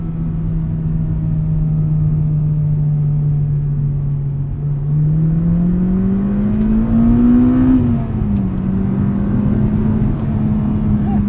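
A 2006 Acura RSX Type-S engine drones loudly from inside, its pitch climbing steadily under full throttle with the AC off, then dropping briefly at a gear change before rising again.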